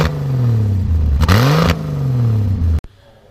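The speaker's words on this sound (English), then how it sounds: "Go and rev it up just a little bit." A 1965 Ford Falcon Club Van's 170 engine revs up and down a few times, pitch climbing and falling, then cuts off abruptly to near silence.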